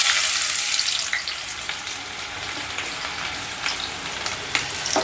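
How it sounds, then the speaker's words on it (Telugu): Thinly sliced onion pieces sizzle steadily in hot oil in a pan with a bay leaf, for a South Indian tomato rice; a bright, continuous frying crackle, close and fairly loud, with no talking. "ఈ ఉల్లిపాయ ముక్కల్ని ఇందులో వేసుకుందాం"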